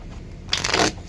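A deck of playing cards is riffle-shuffled in a single quick, close, crisp burst of fluttering card edges lasting about half a second.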